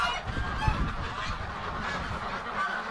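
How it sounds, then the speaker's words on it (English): Ducks honk repeatedly outdoors on a cold, windy day, several overlapping calls close by under steady wind noise, with no talking. "Hey, ducks."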